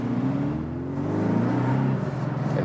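A Porsche 718 Boxster in sport mode with the exhaust valve open, its engine note rising and falling through a smooth gliding pitch sweep, moderately loud from inside the car, no talk.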